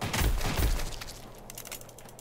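Triple-shot gunfire in the video game When the Light Dies comes as a quick loud cluster of bursts that fades into lighter rattling shots.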